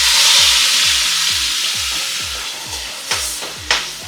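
Ground masala paste for a potato kurma gravy fries in a pan with a steady sizzle, broken by regular rhythmic scrapes and stirring knocks and then two sharper clacks near the end, with no talking.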